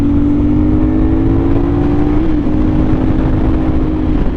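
A CFMOTO 450SS motorcycle fitted with a slip-on exhaust revs loudly and close by, holding a steady high drone that climbs and then dips slightly.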